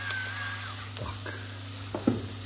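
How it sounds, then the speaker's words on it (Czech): Beef oxtail fries in a pan, giving a steady, close sizzle that runs throughout, with a few brief stirring clinks and a knock near the end. "No a budeme smažit dál."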